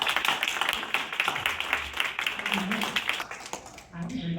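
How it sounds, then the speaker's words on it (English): Audience at a book launch clapping for a poet: dense, steady applause, moderately loud, with some voices murmuring faintly underneath. "Let's give a round of applause for Laura Passin."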